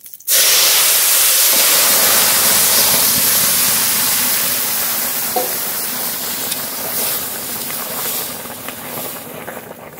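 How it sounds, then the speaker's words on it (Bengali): Vegetables tipped into hot tempered oil for a Bengali vegetarian dish, setting off a loud, steady broadband sizzle that holds strong for several seconds and slowly eases toward the end. "ফোড়ন হয়ে গেছে, সবজি ঢেলে দেবো"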